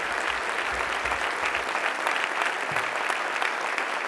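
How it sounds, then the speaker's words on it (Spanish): Church congregation claps together in an even, continuous round of applause that fills the room at moderate loudness without letting up. "Dele ese aplauso si así lo siente al Señor."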